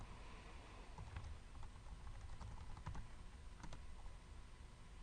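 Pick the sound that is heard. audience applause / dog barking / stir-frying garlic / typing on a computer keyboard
typing on a computer keyboard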